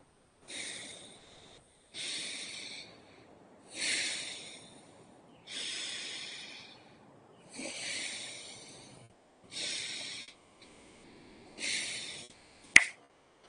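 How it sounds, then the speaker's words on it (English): Slow, deep breaths in a guided breathing practice: about seven long, airy, hissing breaths at an even rhythm, close and fairly loud, with one sharp click at the very end and no talking. "Last 10 breaths, follow me."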